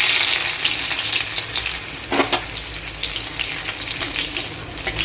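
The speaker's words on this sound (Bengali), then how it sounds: "ইলিশ মাছের তেলটা এভাবে ভেজে গরম ভাতে খেয়ে দেখবেন" Four torn dried red chillies, crushed garlic and nigella seeds fry in hot hilsa fish oil, giving a steady, loud sizzle with stirring scrapes and a brief clunk midway.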